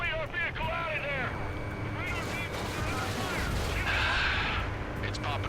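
Anti-aircraft guns firing in the combat flight game Ace Combat 7, bursts of booming fire beneath urgent radio chatter and engine roar, with a loud blast near the middle.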